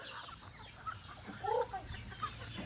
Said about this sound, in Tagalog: Update tayo sa manok na to guys